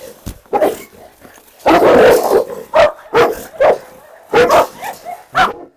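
A pitbull and a large Cane Corso bark in sharp, loud bursts up close, several deep woofs spaced irregularly with short quiet gaps and some whining between.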